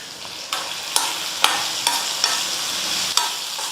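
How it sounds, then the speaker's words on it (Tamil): Vegetables sautéing with tamarind, turmeric and salt in a pan for a Tamil manathakkali kuzhambu lunch, a steady close sizzle broken by about seven sharp scraping stirs at a roughly even pace, with no talking. "எல்லாம் சேர்த்து கலந்து கொடுத்துட்டு காயும் ஓரளவுக்கு பாதி அளவுக்கு வதங்கிடுச்சு"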